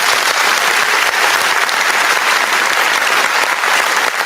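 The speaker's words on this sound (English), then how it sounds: "Let me give you your applause." Studio applause rings out steadily for the full stretch, a dense, even wash of clapping from a crowd at a call-in discussion show, loud and unbroken with no voices over it.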